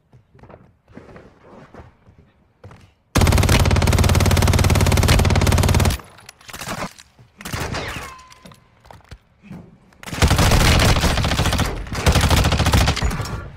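Sustained automatic rifle fire in the mobile shooter Warzone Mobile, two long loud bursts each lasting a few seconds, separated by quieter game sounds and footsteps.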